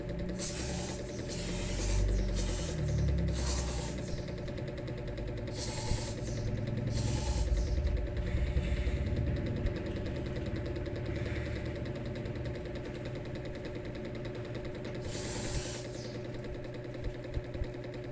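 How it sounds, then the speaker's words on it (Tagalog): Air freshener is sprayed into the corners of a room in a series of short, breathy hisses, some bursts longer than others, over a steady mechanical hum. "kailangan isprayhan natin to ng spray. Air freshener ang bawat sulok."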